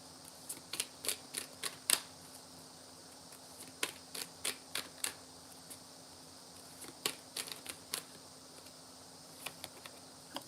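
Tarot or advice cards being shuffled and drawn, faint papery flicks and taps in short irregular bursts over a quiet room hum, close and soft.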